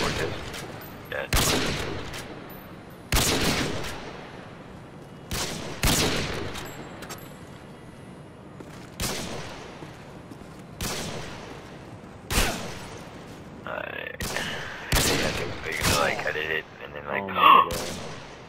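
Gunfire in a shooter video game, including a wall bang shot through cover, comes as a series of loud single cracks spaced a second or two apart over roughly eighteen seconds, with faint game effects between them.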